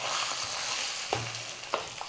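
Mustard seeds, chana dal, urad dal, green chillies and curry leaves sizzle steadily in hot oil for a South Indian tempering, a continuous close frying hiss with a few sharper crackles and light stirring knocks.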